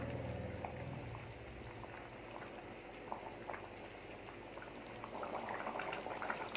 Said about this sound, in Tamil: குழம்பு நல்லா கொதிச்சு ரெடி ஆயிடுச்சு